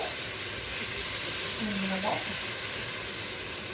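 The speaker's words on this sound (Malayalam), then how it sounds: "ചെറിയുള്ളി വഴറ്റിയിട്ട് ചെറിയുള്ളി ചെറുതായിട്ട് വഴങ്ങി വരുമ്പം" Shallots sautéing in a pan for a turkey curry give off a steady, even sizzling hiss, moderately loud and continuous, with a brief faint clink partway through.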